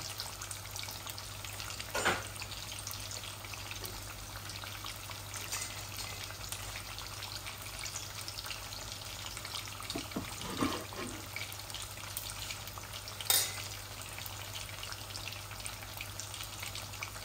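Pieces of masala fish frying in a pan with coriander leaves, a steady close hiss and sizzle throughout, broken by a few sharper spatters and stirring scrapes, with a constant low hum in the background.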